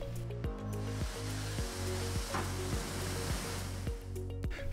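A Timesavers 2300 Series 42-inch wide belt sander with segmented platen, vacuum bed and variable speed runs its head at 700 RPM, giving a loud, steady whirring roar with a humming drone and regular rhythmic thumps about every half second.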